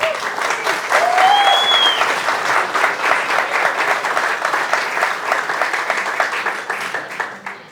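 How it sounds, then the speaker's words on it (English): A room full of people at a crypto market conference gives a speaker a round of applause, loud sustained clapping with a brief whistle near the start, tapering off at the end. "Give him a round of applause, please."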